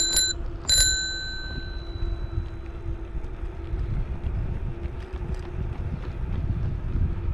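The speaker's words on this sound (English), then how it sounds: "Ring the bell for this guy." An e-bike's bicycle bell rings twice in quick succession, clear and close, on the riverside Meewasin Trail in Saskatoon, followed by steady wind rush and riding noise.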